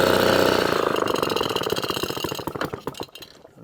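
A vintage Atco kick-start mower with a Villiers Midget engine runs with a rapid, rough two-stroke putter. The engine slows and stumbles toward the end as it loses throttle, with a slight mechanical rattle.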